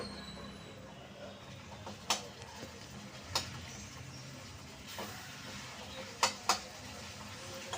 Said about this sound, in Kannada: ನೋಡಿ ಈ ಥರ ಮ್ಯಾಶ್ ಮಾಡ್ಕೋಬೇಕು ಟೊಮೆಟೊನ